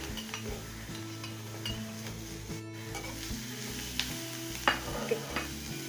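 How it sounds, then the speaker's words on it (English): Onion and garlic sizzling in butter in a pot, soft steady frying under stirring, with a few sharp clinks of a utensil against the pot and no talk. "in this butter I am going to add my onion and garlic all together"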